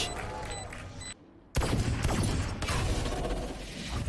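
Sheriff pistol shots in a Valorant esports match: a sharp, loud crack after a brief silence, followed by further rapid gunfire and clattering action, close and busy.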